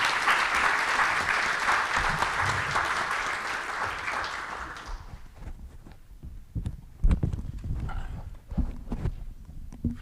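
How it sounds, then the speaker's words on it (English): A room full of people at a book launch applauds warmly for about five seconds; the clapping stops, leaving scattered knocks, shuffling and footsteps. "please give a round of applause to our editors and authors in the audience"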